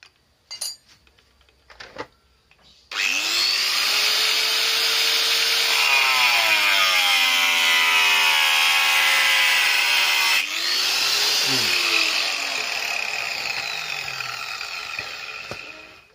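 An angle grinder fitted with a cutting wheel spins up and bites into material, a loud sustained high whine with shifting pitch, a brief dip midway before cutting resumes, after a few quiet knocks at the start.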